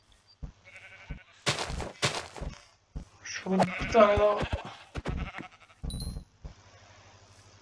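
Several short sheep bleats from the video game Minecraft, sounding in quick bursts while someone talks over and between them in a quiet game setting.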